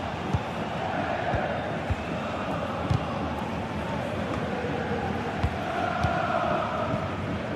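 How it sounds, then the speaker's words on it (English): Stadium crowd noise from a football video game, a steady broad roar that swells slightly in places, with faint thumps underneath and no clear speech. "The crowd certainly think so. Just listen to that noise."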